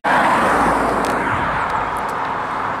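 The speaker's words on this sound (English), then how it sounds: "hardly any cars on the road. I can hear one in the background" A steady broadband road rush from a car passing at a distance, continuous and fairly loud, with no talking.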